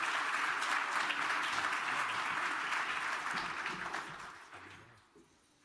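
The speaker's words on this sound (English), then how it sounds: "So I want to have a round of applause in helping Mark come to the stage and lead this discussion this morning." An audience at an education conference keynote applauds to welcome a speaker to the stage, a broad steady clapping from many people that holds for several seconds, then thins and fades out toward the end.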